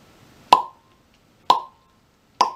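A voice imitates a wine bottle cork popping out: three sharp, hollow mouth pops made by pulling the lips from the teeth, spaced about a second apart, close and clean with silence between.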